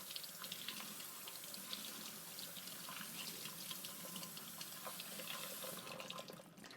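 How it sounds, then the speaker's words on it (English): Canned black beans are rinsed under a running kitchen tap, a soft, steady stream of water splashing into a sink throughout. "the tip to decrease the salt in the black beans is just rinse water over it"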